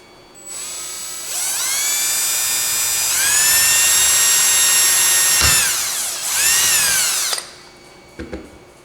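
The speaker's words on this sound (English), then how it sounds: "I'm going to drill this hole right here for the roll pin" An electric drill boring a hole for a roll pin whines at high speed close up, running steadily for several seconds with a brief dip, then spinning down and stopping.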